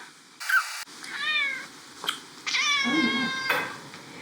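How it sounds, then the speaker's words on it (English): A cat meows several times, drawn-out and tonal calls separated by short pauses, close and clear with no talking. "I'm a scaredy cat. Meow."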